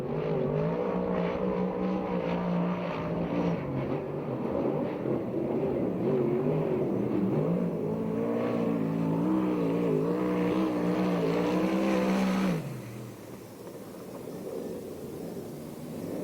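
A sprint car with a TCR chassis and 360 cubic inch engine lapping the track at a USAC/CRA race at the So Cal Fair in Perris, California, its loud, continuous engine roar pulsing with the lap before dropping away sharply near the end.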